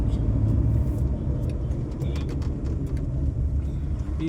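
A big vehicle on a road at night, heard as a steady, loud, low engine rumble that stays close for the whole stretch, with faint clicks and rattles on top.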